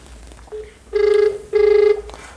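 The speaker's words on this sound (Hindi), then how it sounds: "यहाँ पे देखिए ये जो स्मार्ट वॉच है मैं इससे एक नंबर यहाँ पे डायल कर रहा हूँ।" A smartwatch dialing out a phone number gives two steady, loud electronic tones, each lasting under half a second, in a short sequence with brief quiet gaps and no talking.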